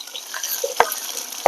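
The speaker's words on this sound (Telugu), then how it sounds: "బాగా దోరగా వేయించుకున్నాం తాలింపు" A tempering of green chilies, onions and spices fries in oil for a spring onion tomato curry, crackling steadily up close, with two distinct scraping strokes of a spoon stirring the pan.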